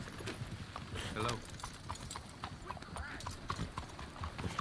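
Horse hooves clip-clop at a steady walking pace in the video game Red Dead Redemption 2, close and distinct, with a brief whinny, while someone talks over them.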